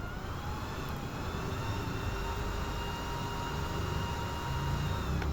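A homemade electric blower for a cooking stove runs off a motorcycle battery, giving a steady, close whirring hum with a faint high whine, constant and unbroken with no talk.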